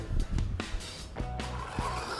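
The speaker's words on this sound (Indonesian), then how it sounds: "Oke, kita tes dulu mobil remote mercon, guys." A remote control toy car driving nearby, a short burst of buzzing motor whine with scraping, rolling noise and quick pitch shifts as it moves and reverses.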